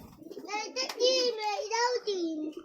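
Pigeons coo close by in a series of soft, rolling calls, mixed with faint background chatter.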